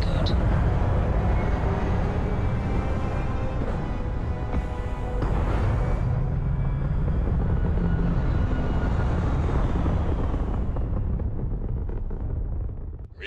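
A spaceship lifts off in Starfield with a loud, sustained roaring rumble of engines that holds steady for several seconds before tapering off at the end, with no speech over it.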